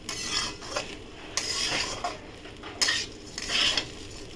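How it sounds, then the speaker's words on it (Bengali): Washed rice being stirred in a pan to dry it for pulao, with scraping, rasping strokes of a spoon against the metal coming in irregular bursts, close and fairly quiet, with no talking. "এরকম করে নেড়ে জলটা ভালো করে শুকিয়ে নিতে হবে।"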